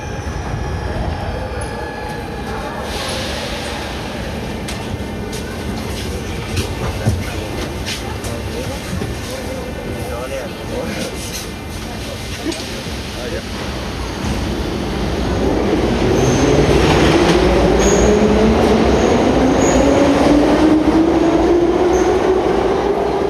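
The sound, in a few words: Tashkent metro train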